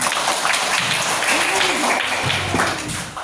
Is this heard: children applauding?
yes